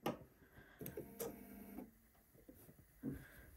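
A home sewing machine stitches the side seam of a bodice made from pattern M8361, heard as faint, short mechanical bursts of needle rattle with brief pauses between them and no voices.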